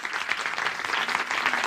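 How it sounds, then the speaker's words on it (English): Steady, continuous applause from a room audience at a film premiere in Davos, full and even throughout without pauses. "another round of applause"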